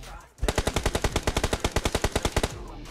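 Rapid gunfire from a DBS shotgun in the PUBG Mobile game: a burst of about twenty sharp, evenly spaced loud shots over two seconds, close and alone without talk.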